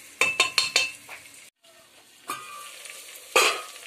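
Chicken browns in a pan: a soft frying sizzle is broken by a quick burst of utensil scrapes and taps, a short silent gap, then more stirring clatter and a final loud scrape.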